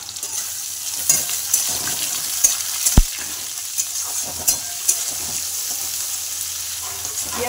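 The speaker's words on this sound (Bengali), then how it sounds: "পেঁয়াজটা ভালো করে ভেজে নেব।" Chopped onion, green chilli and bay leaf frying in a pan, a steady bright sizzle with intermittent clinks and scrapes of stirring, one sharp knock near the middle, close and without talk.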